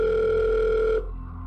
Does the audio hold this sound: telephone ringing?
yes